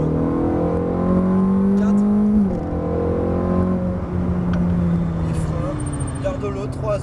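A Ferrari F430 F1 engine accelerates at full throttle out of a right-hand corner on a track, its loud revving rising through the gears with brief shift dips, while someone talks over it.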